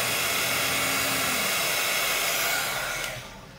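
Heat embossing tool running on a mixed media magazine collage, a loud steady blowing whoosh like a hair dryer that holds for about three seconds, then drops away as it switches off.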